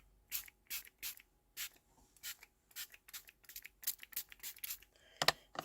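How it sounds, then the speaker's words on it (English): A hand spray bottle spritzes water onto card in a craft session: a series of short, close, hissing bursts at irregular intervals, quiet overall and with no talk. "I might do a little bit of spritzing first."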